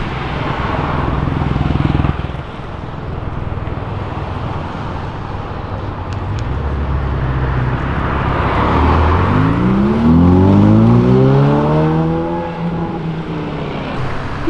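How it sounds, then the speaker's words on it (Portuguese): A red Ferrari sports car passes by on the street, its engine rising to a loud, close roar and then falling away as it goes past, with steady traffic noise in the background. "Uma Ferrari passando"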